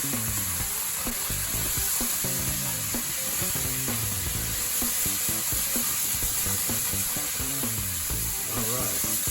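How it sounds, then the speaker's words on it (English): Red wine is poured into a hot pan of cooked sausage to deglaze it, producing a loud continuous sizzle with scraping and stirring sounds throughout. "Now I'm just gonna put about a 1/4 cup of red wine in there."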